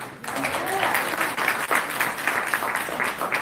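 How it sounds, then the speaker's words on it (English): Audience applause at a city board meeting in Dolton, a steady wash of clapping from many hands that runs throughout with little change in level. "For everybody, give them a round of applause."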